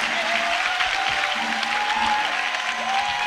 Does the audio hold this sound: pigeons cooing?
no